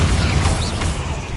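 A short, muffled boom from the Bombarda explosion spell in Hogwarts Legacy, dense low rumbling with a faint creaking crackle, heard alone.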